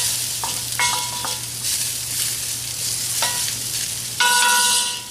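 Unpeeled, scrubbed garden sweet potatoes are stirred into a sizzling pan on a Green Egg grill, giving a steady close hiss with several metallic clinks of the utensil and a louder scrape near the end.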